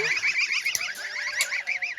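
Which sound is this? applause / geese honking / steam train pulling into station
geese honking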